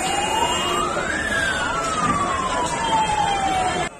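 Fire engine sirens wail at a fire scene near Mundka metro station in Delhi, one rising and falling tone sweeping up then slowly gliding down, moderately distant over a background hum of traffic and crowd.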